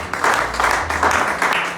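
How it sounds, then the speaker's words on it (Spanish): Applause from a church congregation at an evening service, a dense broadband roar rising and falling in several loud surges with a low hum beneath, no voices over it. "un fuerte aplauso a Dios esta noche"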